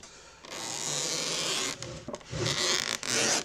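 Zippers being pulled open on the carrying case of a Panasonic NV-8400 VCR, giving close, raspy runs of sliding teeth with short breaks between pulls and some handling rubs.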